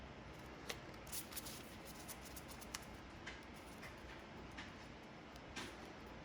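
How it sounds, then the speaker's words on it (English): Faint, soft riffling of oracle cards with sporadic light snaps and clicks, quiet and close, with no talking. "Okay, so it's time for the first shuffle."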